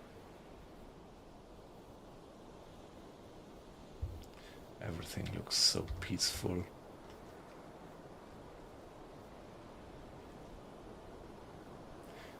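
Ocean waves washing steadily around a submarine on a calm, moonlit sea in the video game UBOAT, a soft continuous surf hiss that runs throughout, briefly overlaid by someone speaking.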